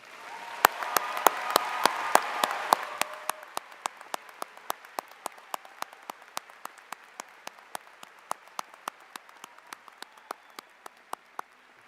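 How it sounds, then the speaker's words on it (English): A high school graduation audience applauds faculty and staff. Dense clapping swells briefly, then thins into scattered claps that continue at a steady, moderate distance. "let's give them a round of applause."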